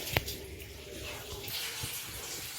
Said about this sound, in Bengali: এবার এটা এখন জলটা ঝরিয়ে নিচ্ছি